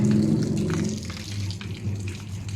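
Water gushes and splashes steadily into a drain during a sand filter backwash, a continuous rushing, bubbling flow heard up close and fairly loud, easing slightly partway through.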